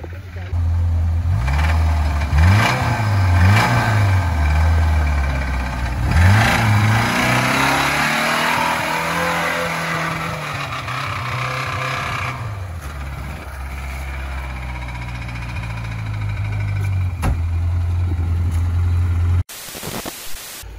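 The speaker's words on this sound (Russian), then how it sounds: "А мотор не тянет, потому что застучал из-за воды." A UAZ off-road vehicle with an engine knocking after water damage revs repeatedly, its loud mid-pitched engine note rising and falling in surges over rough ground, then running more steadily before cutting off near the end.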